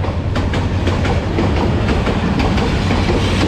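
A train rolls along steadily near a rural railway station, loud and continuous with a rumbling roar and rhythmic clickety-clack of wheels over rail joints, no voices.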